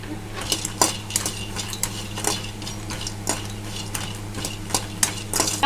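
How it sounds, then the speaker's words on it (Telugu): Peanuts tumble and scrape in a pan as they are dry roasted for peanut chutney, giving repeated sharp clinks and rattles from the stirring utensil over a steady low stovetop hum. "అందులోకి ఫస్ట్ అయితే పల్లీలు వేసుకుందాం"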